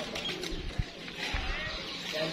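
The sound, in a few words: pigeons and pigeon chicks on a rooftop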